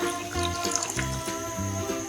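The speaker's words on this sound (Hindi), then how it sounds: "अब इसमें पानी कम है मेरा, मैं दूसरा पानी ऐड करूँगी इसमें।" Water is poured into a pot of chicken chana dal on the stove, a short steady splashing stream with bubbling gurgles that runs evenly for about two seconds, with no talk.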